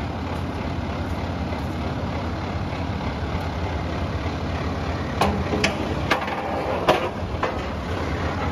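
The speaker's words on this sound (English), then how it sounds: "Now a four vehicle tow truck just arrived." A four-vehicle tow truck idling, a steady low diesel drone under outdoor ambience, with a few sharp clacks and knocks toward the end.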